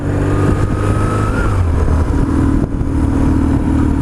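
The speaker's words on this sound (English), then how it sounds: "You have to definitely give it some revs to start it off in first" A BMW R1150GS motorcycle engine runs loud and close in first gear, its pitch rising as the revs climb, then settling into a steady throaty drone.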